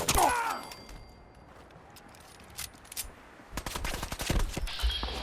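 Gunfire in the Fallout 4 video game: a loud burst at the start, a quiet stretch, then a rapid run of sharp shots and crackling impacts toward the end, with no voices.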